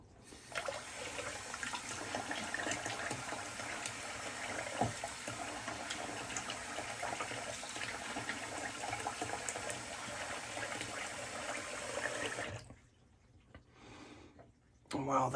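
Tap water runs steadily into a sink during a double-edged razor wet shave, a loud continuous splashing rush that stops near the end, leaving quieter room sound.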